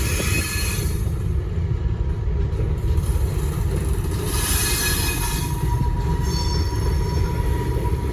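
A Herzog work train rolls past on a CSX line, close and loud, with continuous rumbling wheel and rail noise and intermittent high metallic squeals from the wheels over about eight seconds.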